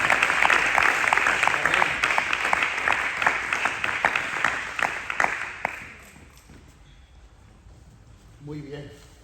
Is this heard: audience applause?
yes